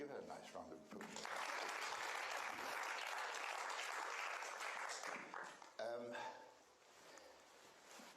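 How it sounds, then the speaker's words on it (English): An audience applauds a volunteer at a magic show, a burst of clapping lasting several seconds that fades out, with a voice talking before and after. "give her a nice round of applause"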